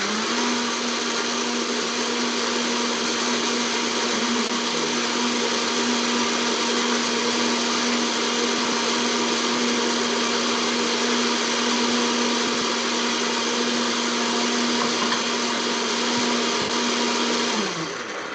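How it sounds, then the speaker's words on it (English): A blender grinds dried peppers into paste, a steady loud whirring drone that runs unbroken for about seventeen seconds before winding down at the end, with no talking over it. "Okay, so I'm gonna turn my blender on."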